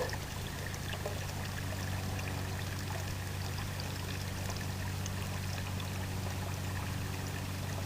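Water pouring steadily out of a container as fish are released into a backyard pond, a continuous close splashing trickle at low volume.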